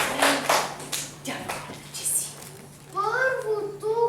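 Scattered clapping breaks out from an audience at a first-grade school Christmas party in Varna, a few uneven claps in the opening seconds, followed by children speaking and singing-like voices.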